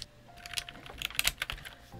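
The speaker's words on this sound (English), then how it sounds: "Now we can put these keys back on here." Plastic keycaps being pressed back onto an MK870 mechanical keyboard fitted with an aftermarket PC plate: a quick irregular run of close, light clicks and taps, some clustered together, with no talking.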